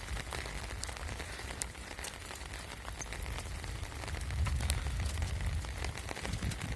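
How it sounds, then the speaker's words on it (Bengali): Steady rain over flooded village fields, a low, even patter with occasional crisp drops landing nearby, quiet and continuous with no voices. "বৃষ্টি এখনো পড়ছে, বৃষ্টি কমে নেই।"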